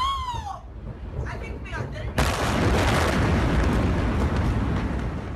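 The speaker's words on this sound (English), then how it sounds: "I totally didn't expect the last explosion. It was like a nuclear bomb." Massive blast at Tianjin port, heard from a distance: a rumbling buildup with some voices, then a sudden broad roaring boom that sustains loudly for several seconds.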